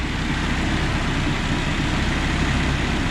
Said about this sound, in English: Such a quiet engine, isn't it?